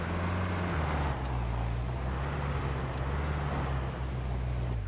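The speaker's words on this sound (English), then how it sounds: "Did you hear that car?" A car drives past in the survival video game SCUM, a low steady engine rumble with a shifting tone that dips partway through, moderately loud and alone without talk.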